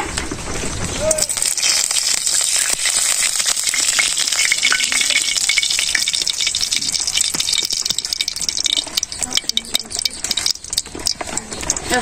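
Oil poured into a hot wok at a simple village cooking spot, setting off a bright, steady sizzling hiss that starts about a second in and continues under a speaking voice.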